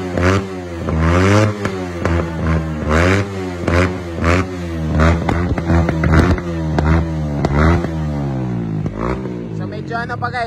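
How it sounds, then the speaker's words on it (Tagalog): Motorcycle engine being revved while still warming up, close and loud, with repeated rising and falling rev sweeps of about a second each, accompanied by some clatter and talk. "pag mainit na yung engine, yan na pwede na i-rev."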